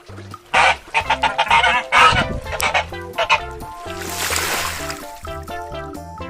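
Several geese honk in loud, overlapping calls with music playing underneath, the honks coming in bursts before a softer stretch.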